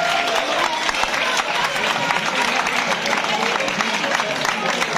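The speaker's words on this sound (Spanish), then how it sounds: "Aplauso, aplauso para Baggy," A live fan-event crowd keeps up steady, dense applause and cheering throughout, loud and close, with voices mixed into the clapping.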